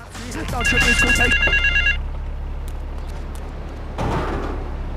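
A telephone rings in the video game GTA 3 with repeated electronic trills for about two seconds over a constant low rumble and radio-style talk, followed by a brief clunk near the end.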